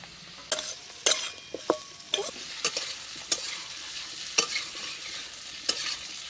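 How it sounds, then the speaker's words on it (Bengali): Vegetables fry in a pan over low sizzling while a utensil stirs and scrapes them in sharp, irregular knocks about every half second, up close, in a village-style Bengali kitchen. "সব সবজি ভালো করে ভাজা হয়ে গেছে"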